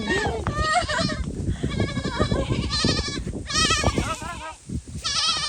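Goat bleating repeatedly during a behind-the-scenes shoot, several wavering bleats rising over close, busy talk and laughter from people nearby.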